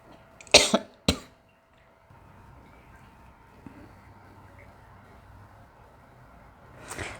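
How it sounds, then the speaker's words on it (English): A woman coughs twice in quick succession, sharp and close, then quiet room tone follows with another cough starting at the very end. "Sorry, I'm coughing."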